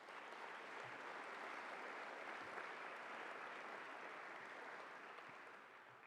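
Audience applause at a university convocation, a steady, even wash of clapping from a large crowd heard at a distance, fading slightly near the end.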